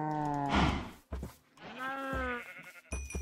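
Cattle mooing in Minecraft: two drawn-out harmonic moos, the first loud and wavering, the second rising and falling, separated by short gaps with a few clicks and a faint tone at the end.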